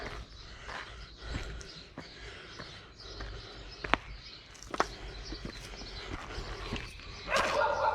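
A dog at an abandoned Soviet-era sanatorium spa town in Georgia barks several times in short, scattered bursts, fairly close against outdoor ambience, with a louder bark near the end.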